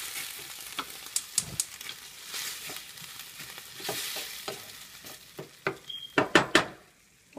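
Onions stew and sizzle in a pan for hot dogs, a soft steady frying hiss broken by a string of scraping stirs and light clinks of a utensil against the pan, close up with no talking.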